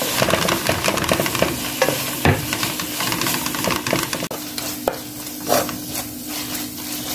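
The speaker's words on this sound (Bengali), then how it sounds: "নেড়ে ছেড়ে একটু ভেজে নেব" Shrimp with salt and turmeric sizzle in a hot pan while being stirred, giving a steady frying hiss broken by scraping clicks of the spoon.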